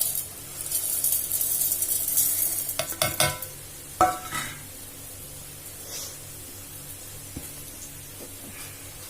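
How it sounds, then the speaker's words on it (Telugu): Cumin and coriander seeds tossed into a hot pan after sesame, fenugreek and poppy seeds, giving a brief burst of sizzling and stirring scrapes early on that settles into a quiet, steady hiss. "ఇప్పుడు జీలకర్ర వేస్తున్నాను చూడండి. జీలకర్ర, ధనియా వేస్తున్నాను చూడండి."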